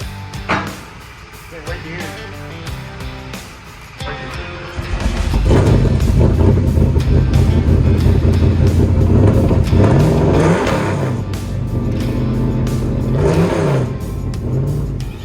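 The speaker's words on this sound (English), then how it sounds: "The car sounds incredible." A Chevrolet Camaro V8 fitted with a 373 gear and posi unit idles roughly, then revs up loudly and holds a heavy drone with repeated throttle swells, close and dominant throughout.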